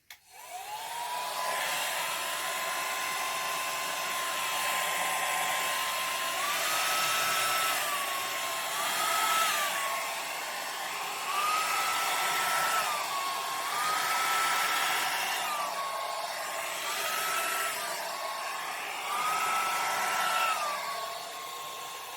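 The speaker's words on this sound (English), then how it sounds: "I got a feeling this hairdryer is going to be a little bit powerful for a canvas this size" A hair dryer blows steadily and loudly across a painted canvas for the whole stretch, its whine rising and dipping slightly as it moves, with no voices.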